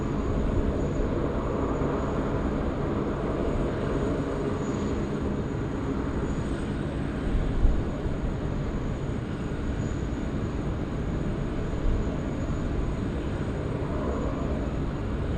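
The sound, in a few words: Qantas airliner taking off from Sydney Airport runway 16 right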